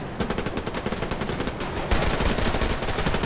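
Rapid bursts of automatic gunfire in the shooter game Survarium, dense and continuous, growing louder and heavier after a short gap midway.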